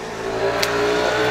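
A motorcycle passes close by, its engine note rising and steady across the short moment, loud and alone without talk.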